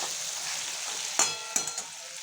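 Meat and potatoes fry together in a pan for chicken curry, a steady close sizzle with a couple of sharp stirring scrapes, no voices.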